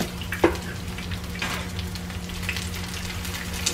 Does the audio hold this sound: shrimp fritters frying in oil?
yes